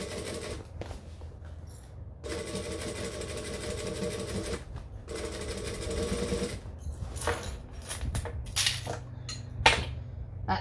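Sewing machine stitching a tote bag, a steady mechanical whir of needle strokes running in bursts with brief stops between seams, close and moderately loud, no talking.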